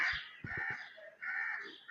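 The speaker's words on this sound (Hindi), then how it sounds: "परिंदों की चहचहाती आवाज़ें" Birds call outdoors on a cool morning after rain, a few harsh caw-like cries in short bursts with brief pauses between them, clear and fairly close.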